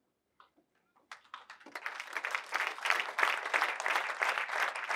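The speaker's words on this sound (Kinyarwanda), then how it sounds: "haguruka itorero gukomera amashyi." A church congregation in Kigali breaks into applause at an anniversary service, starting with a few scattered claps and swelling within a second into dense, loud, sustained clapping from the whole crowd.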